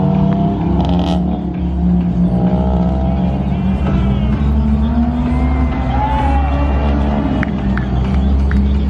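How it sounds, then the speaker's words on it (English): A modified car at a traffic light leaving a car meet revs and accelerates hard, engine note rising in loud sweeps among other idling and passing cars, with a crowd murmuring nearby. "See if he'll floor it at the light."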